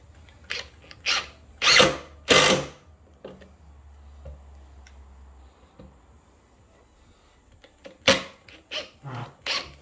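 A power drill whines in short bursts as it drives small screws into the steel hoop of an old wine barrel, several loud spurts separated by quiet pauses, then a quicker series of brief runs.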